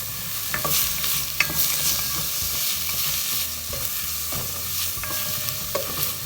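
Onions with a little salt fry in a pot for a curried coconut cream soup. A steady sizzle runs throughout, and repeated scrapes and clinks of stirring sound close by. No one speaks.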